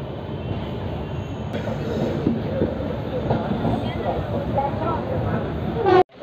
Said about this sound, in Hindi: Bhilwara railway station